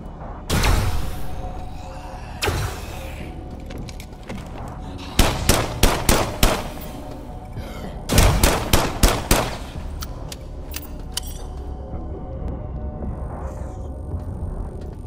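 Enemy robots fire on the player in the System Shock remake, with loud close bursts of rapid gunfire in clusters and single shots over a constant low game hum, with no speech.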